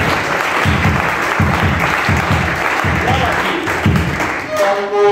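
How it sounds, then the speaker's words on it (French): A church congregation claps in rhythmic bursts, acclaiming the Lord during a service. The loud, close applause comes in regular waves, with voices calling out over it and a brief tonal sound near the end. "Est-ce que vous pouvez acclamer le Seigneur?"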